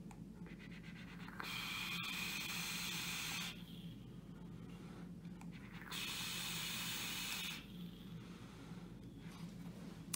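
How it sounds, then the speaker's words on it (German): An iJoy Capo 100 e-cigarette kit with a 21700 battery gives two long, steady hissing draws of several seconds each, separated by quiet pauses, close to the listener. "gut, einmal dampfe ich noch."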